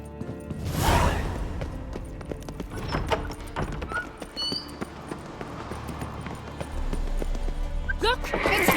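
Horse hooves clip-clop in a galloping rhythm amid game sound effects and music in The Witcher 3: Wild Hunt, with brief whooshes and a crash.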